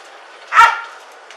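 A police dog gives a single loud, sharp bark during an arrest after a high-speed chase in Los Angeles, standing out clearly against quiet background noise.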